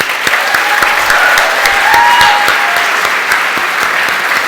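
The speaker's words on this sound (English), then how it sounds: "can we have a huge round of applause for all of Cohort 2 of Elevate?" A large audience at a startup demo day claps loudly and continuously, a dense close patter with a few faint whistles or cheers rising over it.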